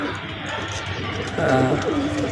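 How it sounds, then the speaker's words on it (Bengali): A pair of Nila Kamagar pigeons cooing softly nearby amid background noise, with a low rolling coo rising clearly toward the end. "খুবই চমৎকার দুইটা কবুতর"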